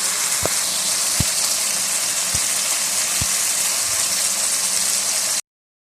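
Chicken jalfrezi vegetables and tomatoes cooking over high heat in a pan, a steady loud sizzling hiss running throughout with a few faint clicks, no talking.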